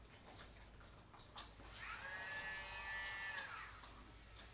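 A Dremel nail grinder with a fine 240-grit sanding band runs at its lowest speed, giving a faint, steady whirring whine for a couple of seconds after a few soft taps.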